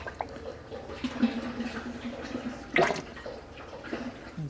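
Thin, warm engine oil drains from a Mazda ND Miata into a pan, making a steady trickling, splashing liquid sound up close, with a brief louder splash near the end and faint talk in the background.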